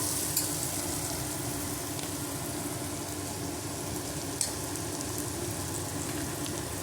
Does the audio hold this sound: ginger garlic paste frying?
yes